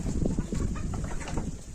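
Young hens in a farmyard cluck steadily at close range, a busy overlapping flock chatter with no voices.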